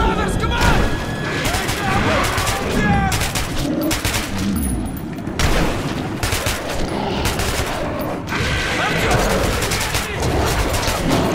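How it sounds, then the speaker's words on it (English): Dense gunfire in the video game Metro 2033 Redux, with rapid bursts and booms running almost without a break. Shouting voices mix with loud close shots. "Shoot them! You shoot them!"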